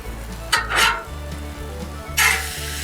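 Home fries and onions sizzle steadily on a Blackstone griddle, with two bursts of spatula scraping and stirring standing out over the constant frying hiss.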